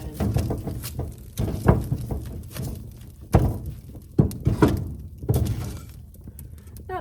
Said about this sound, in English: I'm feeling the urge to poke the fire again.